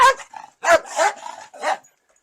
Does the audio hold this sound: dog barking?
yes